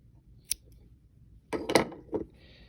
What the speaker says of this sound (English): I'm gonna cut our yarn.